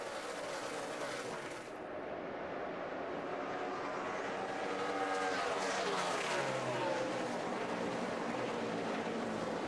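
NASCAR stock cars at speed during the 2011 AAA Texas 500, a loud continuous roar of engines with pitch sweeps as cars pass, crowd-like wash underneath throughout.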